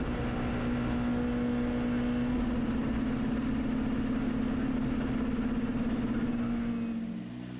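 A Skoda rally car competing at the Ypres Rally drives with a sustained loud engine drone and steady tone, holding speed along a road before easing slightly at the end.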